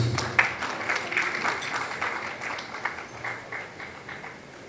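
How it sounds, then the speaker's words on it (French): Applause from an audience at a building-industry awards night in Senegal, greeting an award recipient; a moderate, steady patter of many hands with a few sharper claps, heard at a distance through a hall. "Sous vos applaudissements"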